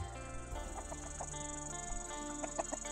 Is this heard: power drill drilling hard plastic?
no